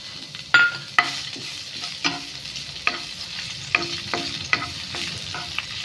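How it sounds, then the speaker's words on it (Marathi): Chillies sizzle and fry in hot oil in a pan for a Goan chicken sausage dish, with a steady crackle and repeated sharp clinks of a stirring spoon against the pan. "मिरसांग बऱ्यो करून अशें भाजयता."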